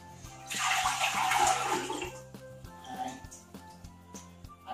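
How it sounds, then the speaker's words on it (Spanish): Broth is poured into a pressure cooker, a near splashing pour that swells for about two seconds and then thins to a light trickle, with a steady background hum under it. "Yo en principio voy a echar el caldo en la olla express."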